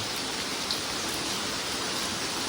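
Heavy rain pours down steadily on a roadside by a garden where a four-wheeler has stopped, a dense, even hiss that holds at the same loudness throughout, with no voices.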